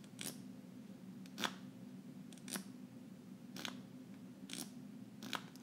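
Adjusting the headband of Sony WH-1000XM4 headphones gives a series of sharp, isolated ratcheting clicks, like a zip tie, spaced about a second apart over a low steady hum, close and quiet.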